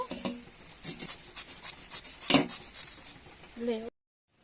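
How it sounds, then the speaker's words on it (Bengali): Raw green papaya rubbed against a grater in a home kitchen, a steady run of rapid rasping strokes up close, ending in a brief pause of silence. "তারপরে আমি এই পেঁপেটাকে গ্রেট করে নেব"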